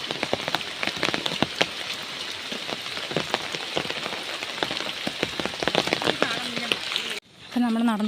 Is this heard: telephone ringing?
no